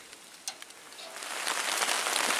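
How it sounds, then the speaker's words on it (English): Steady rain falls on a hammock camp along the Pictured Rocks shoreline in Michigan, a few close drops tapping at first before the patter thickens into a continuous hiss. "As you can hear, it's still raining."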